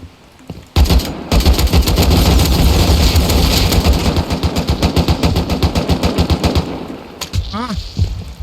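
An AK rifle in the game Rust fires long, rapid automatic bursts, loud and close, with a short pause before sustained fire that gradually loosens into spaced shots.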